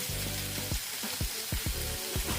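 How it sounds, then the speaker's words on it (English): Ground turkey sizzles steadily in a pot at close range, a constant bright frying hiss with faint low stirring knocks beneath it. "Here goes our ground turkey. We're going to let that simmer."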